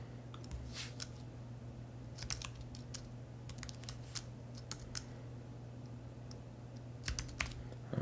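Typing on a computer keyboard to enter a file name, bursts of quick close key clicks separated by pauses, quiet over a low steady hum.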